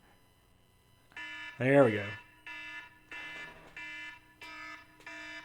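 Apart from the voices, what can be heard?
cell phone alert alarm tone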